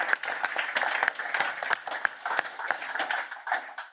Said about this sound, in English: we give Chris a round of applause for his comments